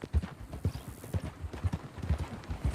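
In the Red Dead Redemption video game, a horse's hooves clip-clop in a steady, heavy trotting rhythm close up, each thud sharp and repeated, with no talk over them.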